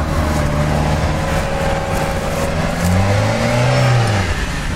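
A front-wheel-drive Renault Duster revs on test rollers, its engine a loud, close, steady drone that climbs in pitch, with wheel and roller whir underneath and no voices.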